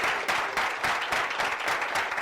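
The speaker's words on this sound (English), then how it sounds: "So, guys, please, let's give a round of applause for Neel from Time Beat Trade." A live audience at a business speaking event applauds steadily, dense clapping filling the whole short stretch at an even, moderately loud level with no talk over it.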